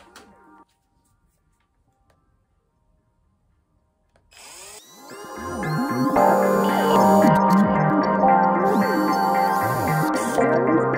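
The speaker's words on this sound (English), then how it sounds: "what I do is drill the centre out of that, because that's got to go back in" A power drill boring out the centre of a small figure part, starting after a few seconds of near silence with a short burst, then running loud and steady with a rising whine and the rattle of the bit.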